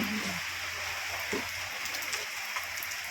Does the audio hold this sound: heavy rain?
yes